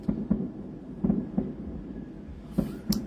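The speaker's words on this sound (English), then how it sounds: "they just literally are fireworks going off in the sky for probably about 30 minutes" Distant fireworks bursting over a lake, a few deep low thumps spaced irregularly through the stretch, faint and rumbling, with no talk over them.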